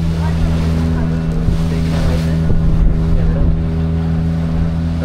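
A motorboat on a dolphin ride off Goa drones with a steady, loud engine hum beneath gusty wind noise and splashing water as it rocks on big waves.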